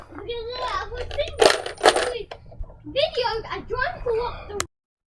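Ten screws dropped one after another into a small hanging holder on a spring, giving bright metallic clinks and rattles scattered among a person speaking throughout.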